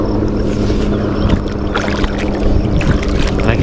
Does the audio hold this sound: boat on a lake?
yes